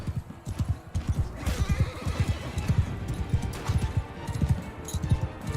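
Horses in a Mount & Blade II Bannerlord battle, a loud neigh rising over rapid, steady clip-clop of galloping hooves, with a faint voice in the background.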